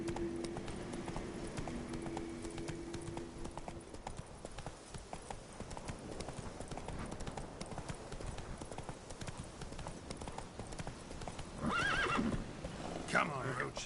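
In The Witcher 3, the horse Roach gallops with a steady rapid clip-clop of hooves, close and continuous, then whinnies near the end; a voice speaks briefly over the hoofbeats.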